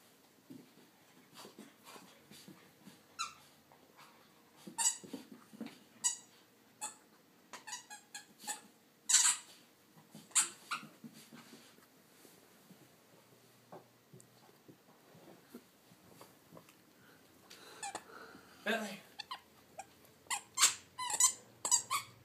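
A Greater Swiss Mountain Dog chews on a squeaky toy, producing scattered sharp squeaks in quick bursts with pauses between, fairly close, along with soft panting and rustling.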